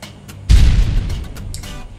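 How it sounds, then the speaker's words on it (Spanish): Explosion sound effect created in Adobe After Effects CS4, a single loud low boom that bursts in suddenly and then rumbles and decays over a second or so, with faint crackle before it. "Adobe After Effects CS4, para agregar explosiones"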